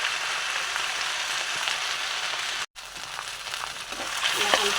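Potatoes, onions and curry leaves fry in a pan with a steady, close broadband sizzle and occasional stirring scrapes, briefly cut off by a short silence.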